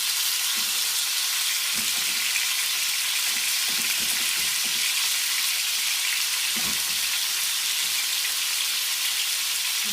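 Salt fish shallow frying in a little oil, a steady close hiss of sizzling that runs unbroken throughout, with a few faint clicks and bumps underneath.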